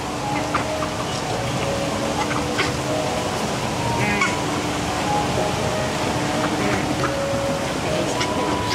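Ducks and geese call amid a busy, steady wash of crowd and vehicle noise on an outdoor safari ride, with people talking throughout.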